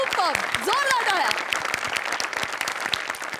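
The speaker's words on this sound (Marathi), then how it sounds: "जोरदार टाळ्या." Loud applause from a studio audience at a comedy show, dense clapping that starts strong and tapers slightly, with a voice speaking over the start.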